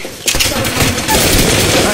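Rapid gunfire from a video game, a loud sustained volley of shots rattling continuously for about two seconds, with a player's voice faintly mixed in.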